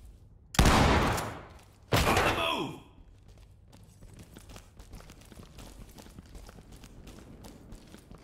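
Two loud, sharp shotgun blasts about a second apart breach a locked door in the tactical shooter Ready or Not, each with a short rattling tail, followed by quieter shuffling movement.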